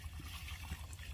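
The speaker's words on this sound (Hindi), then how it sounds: "अभी हम इसमें पानी डाल रहे हैं" Water is poured into a mortar mix while a pigeon house is being built, a faint, quiet trickle and splash that continues briefly and steadily.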